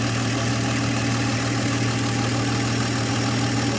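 An old car engine, a 1951 Studebaker or 1948 Nash with a worn accelerator pump, idles steadily and close by, a dense low rumble with only a slight sputter throughout.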